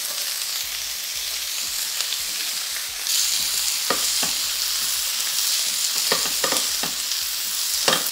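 Breadfruit with quartered tomatoes fries in a pot with a steady sizzle, broken by occasional clicks and scrapes of stirring, close and continuous.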